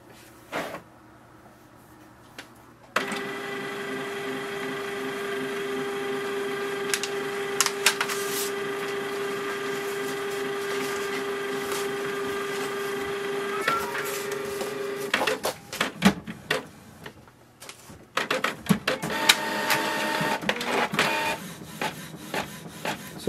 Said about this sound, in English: So here we can see the printer has started to work normally.